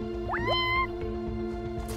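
A cat at an abandoned factory gives a couple of short, rising meows over a steady background hum, fairly close but not loud.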